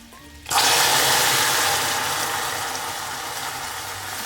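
A small splash of water hits hot caramelised sugar in a pan, bursting into a loud, sudden hiss that stays broad and steady, easing off gradually over several seconds, close up with no talking.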